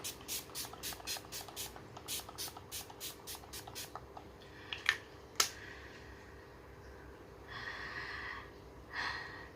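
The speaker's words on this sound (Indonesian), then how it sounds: "Jadi mari langsung aja kita semprotkan." A rose water and aloe vera face mist, alcohol-free, is sprayed onto the face, with a quick series of sharp, close pump hisses followed by a few softer, longer sprays and breaths.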